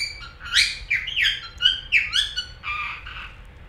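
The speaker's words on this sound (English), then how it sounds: "my bird is so talkative today that I can't really record" A pet bird chirps and squawks in a lively string of sharp, whistled calls, close and loud, with rising and falling tones over a quiet indoor background and no talking.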